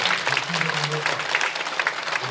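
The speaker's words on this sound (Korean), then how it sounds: "우리 주님께 영광의 박수 드리겠습니다." A church congregation at a prayer meeting breaks into a short burst of dense clapping, with a voice speaking over the applause.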